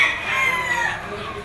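A Henny stag crows at Lipa Auction Market, a single drawn-out crow heard at moderate distance over a busy background.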